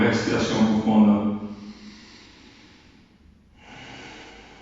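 A deep breath during a yoga session: a long, strong breathy exhale fading out, a short pause, then a softer airy inhale, close and unaccompanied by talk.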